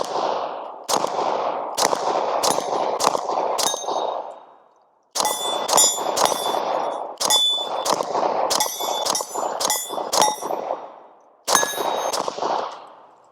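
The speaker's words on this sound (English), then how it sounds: "Let's go ahead and shoot this Gen 5." Glock Gen 5 pistol with a threaded barrel fired outdoors in several quick strings of sharp, loud cracks, each shot ringing with a bright metallic clang, with brief pauses between bursts.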